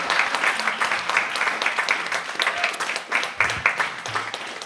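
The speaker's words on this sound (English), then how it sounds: "Can we get a big round of applause from the Peanut Gallery?" An audience at a school board meeting breaks into applause, dense steady clapping from many hands that fills the room for several seconds.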